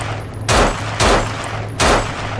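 Gunfire from the zombie shooter video game No More Room in Hell rings out in three loud, sharp shots about half a second apart, over a low steady game hum.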